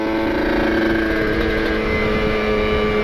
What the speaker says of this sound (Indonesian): Geber-geber ternyata Bang Pras.